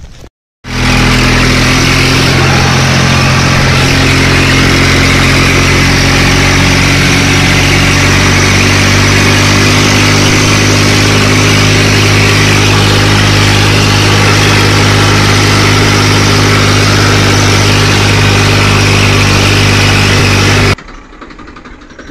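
A loud tractor engine runs steadily with a low, chugging rumble, idling almost unchanged for about twenty seconds before cutting off, during soybean harvest in rain.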